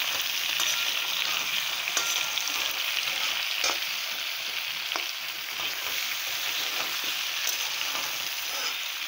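Spices with cumin powder, a bay leaf and salt sizzle steadily in hot oil in a pan while being stirred and sautéed, a dense, even frying hiss throughout.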